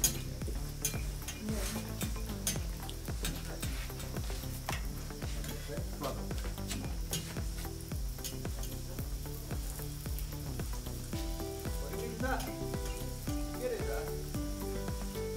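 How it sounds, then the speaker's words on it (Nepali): Chicken empanadas fry in hot oil with a steady, close sizzle that runs throughout, with music playing underneath. "सिम्पली बस फ्राई गरिदिने"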